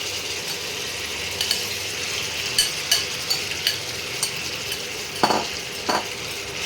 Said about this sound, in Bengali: ভালো করে এবারে চিকেনটাকে ভেজে নিতে হবে, লাল লাল করে ভেজে নিতে হবে